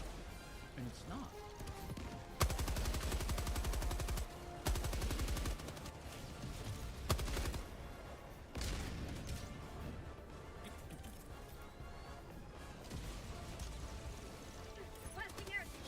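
Strafing-run gunfire in the co-op shooter Helldivers: several loud bursts of rapid fire in blocks, followed by scattered impacts and rumbling, with a voice talking through parts of it.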